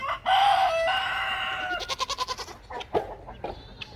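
A rooster lets out a long, loud crow nearby, followed by a rapid series of clucks and squawks from chickens in a backyard garden run.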